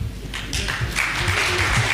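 Audience applause rising at a political meeting with professionals and business community, a dense, continuous wash of clapping that grows fuller, with crowd noise and some voices underneath.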